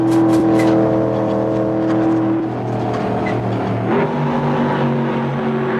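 Two Mustang race cars roar in a racing video game, loud sustained engine drone with shifting pitch as they battle side by side, steady throughout with no talk.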